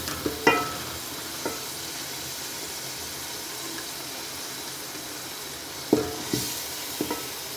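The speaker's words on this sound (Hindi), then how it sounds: "प्याज और लहसुन अदरक को हल्का फ्राई कर लेते हैं।" Onions, garlic and ginger frying lightly in a pan, a soft continuous sizzle with occasional scraping stirs and clinks close by, no voices.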